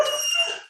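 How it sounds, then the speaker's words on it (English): A dog gives a single short bark or yelp, bright and fairly close, cut off after under a second with nothing else around it. "That was my dog."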